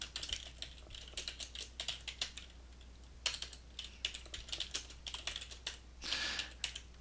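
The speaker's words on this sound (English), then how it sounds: "As I type, my line expands." Continuous typing on a computer keyboard, rapid uneven clusters of soft key clicks close up with a brief busier burst near the end and no speech.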